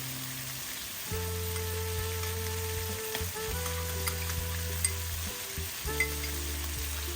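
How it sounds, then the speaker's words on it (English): Chopped onion and garlic fry in a pan with a steady, soft crackling sizzle, close by, over a constant low humming tone that drops out and returns. "So now I'm going to add some chopped onion"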